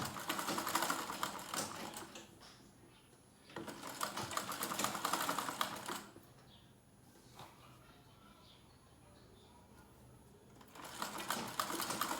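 A sewing machine runs close and loud, stitching a zip into a pencil skirt in three bursts separated by quiet pauses.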